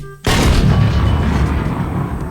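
A 106mm recoilless rifle fires once in a Thai soldier roleplay game. The blast is sudden and very loud, and its heavy roar stays up close and dies away slowly over the next two seconds.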